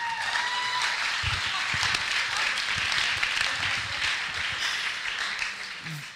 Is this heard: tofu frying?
no